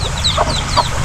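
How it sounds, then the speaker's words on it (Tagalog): Backyard chickens cluck softly in short, scattered calls over a steady low hum, with no talk. "So yung mga manok ko, ilan na lang yung mga manok ko."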